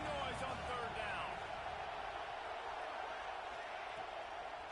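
Steady roar of a football stadium crowd in a Georgia versus Florida State game, bringing noise on third down, a dense, sustained wash of cheering with an announcer talking over it.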